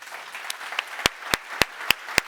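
Audience applause at the Neos Con 2024 award ceremony: a few sharp, separate claps at first, then a sparse run of crisp single claps.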